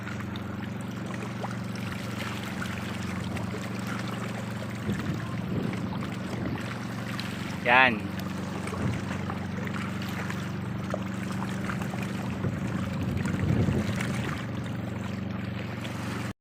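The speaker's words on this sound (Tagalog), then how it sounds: "Lakas pala umatak nitong maliit na bangka." A small Philippine fishing boat engine chugs at a steady, moderate distance while towing a larger broken-down boat at sea, with water wash around it and brief speech in Filipino.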